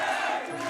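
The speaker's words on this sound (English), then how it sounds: "Crowd really getting behind Tiarnan Brennan here now." Crowd at a WMO Fight Series bout roars and cheers steadily, a dense sustained wall of voices with no break.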